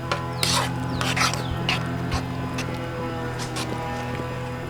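A loud rubber processing machine drones nearby with a steady hum, overlaid by sharp scraping and clattering bursts from close-by kitchen work.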